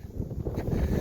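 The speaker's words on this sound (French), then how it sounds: "même s'il y a beaucoup de vent" Strong wind sweeping a mountain valley on a hiking trail between Mont-Louis and the Carança, a continuous rough buffeting roar against the microphone that builds slightly toward the end.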